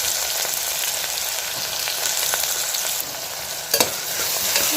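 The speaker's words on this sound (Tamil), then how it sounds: "இப்போ அதில் வெங்காயத்தை சேர்த்துக்குவோம்" Onions sizzle and crackle steadily in hot sesame oil, with occasional stirring scrapes and a brief louder clatter near the end.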